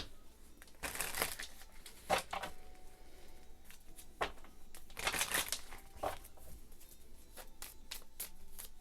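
Journey oracle cards being shuffled nearby, in soft papery riffles and slides that come in several irregular bursts between quieter stretches.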